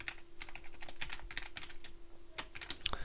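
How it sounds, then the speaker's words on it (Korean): Keys are tapped on a computer keyboard, including the backspace key, while answers are entered and corrected in PowerPoint 2016 for an ITQ exam practice. The keystrokes come in a quiet, irregular stream of separate clicks with no talking. "클릭한 다음에 백스페이스 키 눌러가지고 지워요"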